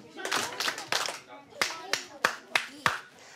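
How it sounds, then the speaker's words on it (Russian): In a Helsinki classroom set up in a converted construction trailer, a teacher claps her hands in short patterned bursts to settle the children. The claps are sharp and close, with a voice heard faintly in between. "Вы хлопаете, вы так успокаиваете детей?"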